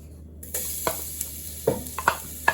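Steady, close sizzling of ingredients in melted ghee for a curry, a continuous hiss with occasional clinks and stirring knocks from the pan.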